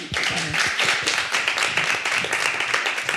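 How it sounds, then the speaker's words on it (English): Close, loud clapping from a small event audience after an author talk, individual hand claps distinct and irregular, forming a lively round of applause with no voices over it. "let's give a round of applause"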